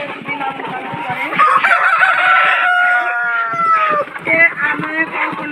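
A Tiger breed hen or rooster kept at home crows loudly and close, with clucking before and after the drawn-out call.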